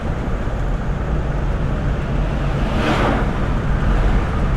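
A 1982 Avanti II cruising on the road, giving a steady, broad engine and road rumble with wind noise that holds evenly for several seconds and swells slightly near the end.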